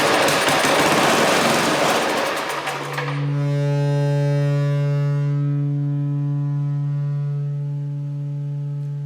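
An old scrap-heap snowblower engine runs on starting fluid with a loud, rough roar for about three seconds, then a steady low humming drone takes over and continues to the end.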